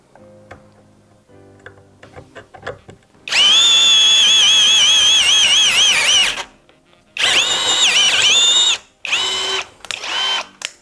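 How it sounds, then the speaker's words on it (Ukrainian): Procraft PI18BL cordless drill driver boring into a 5 mm metal plate, a loud high whining motor in long bursts with pitch wavering under load, preceded by quieter ticking and clicking of the chuck, no talking. "на першій швидкості досить непогано достатньо і небагато, і немало обертів, досить непогано сверлити метал"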